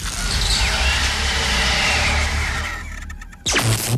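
Touring race cars carrying serious speed around an oval in a 2000 touring car season: a loud, continuous high engine whine that swells and fades as cars go by, then cuts sharply to a fresh burst near the end.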